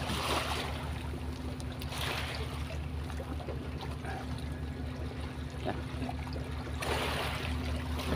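Fishing boat motoring back out to sea, a steady low engine drone with water rushing and splashing along the hull, continuous and fairly close throughout.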